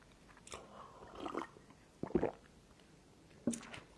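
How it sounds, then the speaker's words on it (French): A person drinks some water, making a few close, soft sips and swallows in three short bursts with quiet pauses between them. "je vais boire un peu d'eau"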